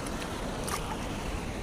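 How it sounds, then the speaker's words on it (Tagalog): Strong sea waves churn and wash around a small boat, with a steady broadband rush of water and wind that stays loud and continuous throughout, with no voices. "Grabe yung pagka-alon."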